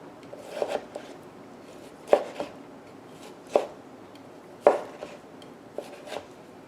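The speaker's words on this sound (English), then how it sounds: "If I have it sliced, I like to cut it in strips." Knife slicing a tomato into strips on a cutting board: a few crisp chopping knocks at irregular intervals, fairly close and moderately loud, with no talking.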